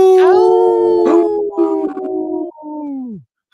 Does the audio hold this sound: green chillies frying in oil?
no